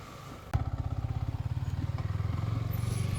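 A Yamaha R15M motorcycle rides at night, its engine catching with a sharp start and then chugging in a rapid, even pulse close by, with no talk over it.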